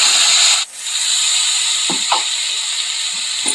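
Onion paste tipped into hot oil with dried red chilli, cinnamon, whole cumin and cardamom, frying in a pan for a Bengali doi katla curry; a loud, steady close sizzle and hiss, briefly dipping then continuing, with a few small clinks.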